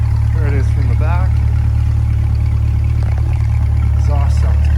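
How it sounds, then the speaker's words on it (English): A 2020 Chevrolet Corvette Stingray coupe, 3LT with Z51 exhaust, idles with a deep, steady, close rumble under someone talking throughout. "Exhaust sounds awesome."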